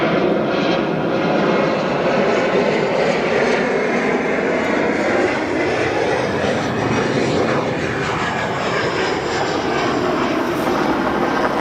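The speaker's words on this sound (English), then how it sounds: "This arrival in United Express, Embraer E175 long range, arriving from Greensboro." A United Express Embraer E175 long-range jet arriving at O'Hare gives a continuous, loud engine roar that holds steady for around ten seconds, its whine slowly shifting pitch as the airliner passes, with no voices over it.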